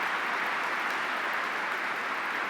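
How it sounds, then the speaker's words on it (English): Audience applause fills an awards night hall, a steady dense wash of clapping that holds at an even level throughout without a break. "Let's give all of them a big round of applause."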